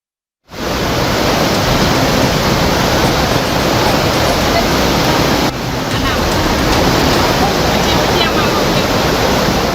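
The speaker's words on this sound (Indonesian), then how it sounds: "Luapan sungai Batang Kiranji merendam permukiman warga hingga memutuskan akses jalan menuju lokasi" Flash flood water from the overflowing Batang Kiranji river in Padang, West Sumatra, rushing as a loud, steady roaring torrent that fills the whole span after a brief silent start, with one slight break partway through.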